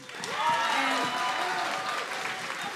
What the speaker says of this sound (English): Can we have a round of applause for these guys first?